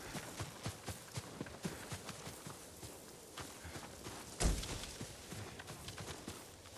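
Horse hooves galloping in Ghost of Tsushima, a steady rapid clip-clop drumming along quietly with a brief louder burst midway, no voices.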